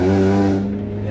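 Engine of a Honda Prelude project car revving hard, a loud, steady low harmonic drone that holds close and strong throughout, easing slightly toward the end.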